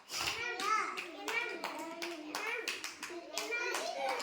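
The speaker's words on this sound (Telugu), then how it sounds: "మీరు క్లాప్స్ కొట్టండి" Children clap their hands in quick, rhythmic bursts of sharp claps, close by, while kids chatter and call out over the clapping.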